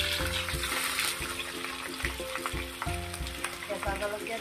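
Onions frying in oil with bay leaf and dried chili for Assamese-style duck curry, a loud continuous sizzle with rhythmic stirring scrapes and clinks of a utensil against the pan.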